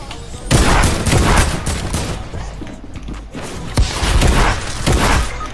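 Repeated bursts of automatic gunfire from a Fortnite match, loud and close, with a few heavy booms layered over a constant in-game background.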